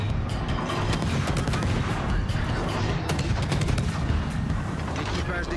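Naval guns fire in World of Warships, giving a steady, loud barrage of sharp cracks and rumbling booms that repeat throughout with dense low-end thunder. Talk runs under the battle noise.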